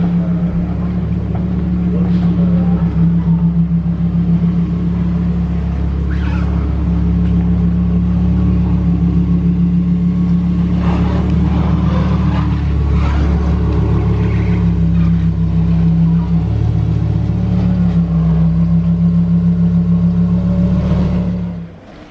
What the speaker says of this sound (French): La Huracan Evo qui passe sur la passerelle comme si c'était une voiture qui se bat dans un centre commercial